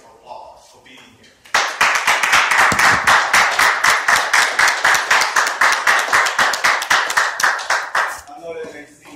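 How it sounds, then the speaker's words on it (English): Students and faculty applauding together in a hall, a burst of steady, fairly even clapping lasting several seconds before it fades, with brief speech before and after. "give you guys a hand of applause for being here"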